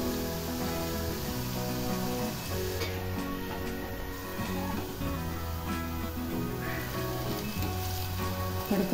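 Jalebi batter frying in hot oil, a steady soft sizzle and bubbling that runs continuously at low level, with no talk over it.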